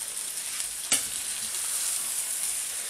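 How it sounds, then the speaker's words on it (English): Chicken kiev pieces and vegetables are stirred and heated through in a pan with stir-fry sauce, a steady sizzle with one sharp scrape of the utensil, close and alone without talk. "just give this a mix, make sure everything is covered, then gently heat it so the stir-fry sauce gets infused with all the meat and vegetables"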